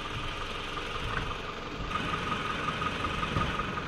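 A car engine idles steadily with no added electrical load, a low, even hum with a faint mid-pitched whine, moderately quiet and constant throughout.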